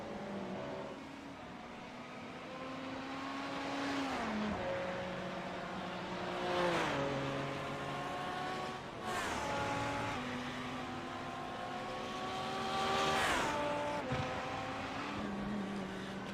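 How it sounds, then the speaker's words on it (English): GT1 and GT3 race cars lap the Long Beach street circuit, several engines layered in steady droning tones that rise and fall as cars pass and shift, continuous and moderately loud with no talk. "I love it when the battle box just has so many different lapping cars on it."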